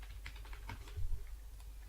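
Soft, rapid keystrokes on a computer keyboard, a quiet run of light clicks heard close up over a low background hum.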